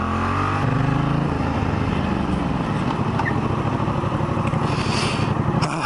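Yamaha FZ-07 motorcycle engine running loud and steady close by, a continuous rumble with a rising rev in the opening second and gritty mechanical texture throughout, with no voices.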